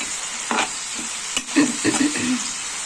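Spinach (palak) fries in a pan over medium flame, with a soft continuous sizzle and a few distinct stirring scrapes clustered in the middle, close and fairly loud, with no voices.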